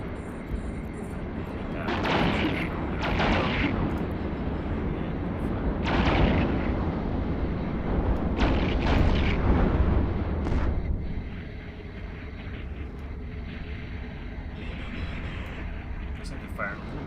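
Ships in the Eve Online space game fire weapons in a series of heavy, booming blasts with short rumbling tails, clustered across the first ten seconds before a quieter hum. A voice talks over the barrage.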